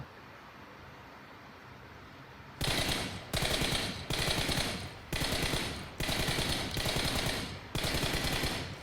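Rapid automatic gunfire in PUBG Mobile arrives in seven loud, tight bursts of about half a second to a second each, separated by short pauses, after two and a half seconds of quiet background hum.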